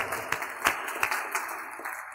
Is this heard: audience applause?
yes